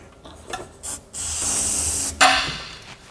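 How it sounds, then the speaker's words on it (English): Brake cleaner sprayed onto an engine during a first start attempt on a van, a few short bursts followed by a longer steady hiss, close and loud with no talking. "Bit of brake cleaner to help things along."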